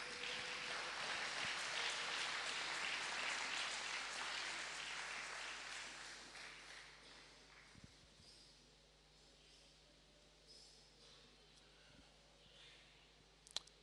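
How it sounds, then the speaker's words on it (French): A church congregation applauds to acclaim God after a Bible reading, broad sustained clapping filling the room and slowly thinning out, with scattered claps lingering toward the end. "nous allons acclamer Dieu pour la parole que nous venons de lire"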